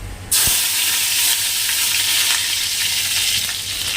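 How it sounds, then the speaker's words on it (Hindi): Garlic cloves dropped into hot refined oil in a wok on a stove, a sudden loud, steady sizzle and crackle of frying that starts almost at once and holds evenly throughout, with no voices. "कढ़ाई में डाल दी हूँ रिफाइंड ऑयल और इसमें सबसे पहले इन लहसुन की कलियों को डालूंगी।"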